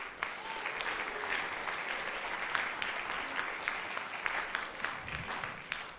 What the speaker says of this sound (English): a round of applause for those incredible volunteers